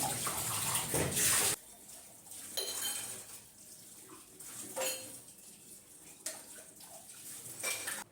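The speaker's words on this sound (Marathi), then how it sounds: "आता पहिले भांडे घासून घेते" Running water splashes into a sink in a strong opening burst, then quieter clinks and scrubbing sounds of dishes follow intermittently.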